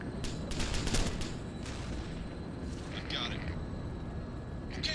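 Gunfire in the Arma 2: Operation Arrowhead video game, aimed at a tank: a quick burst of shots early on, then a quieter rattle later, set against constant background rumble.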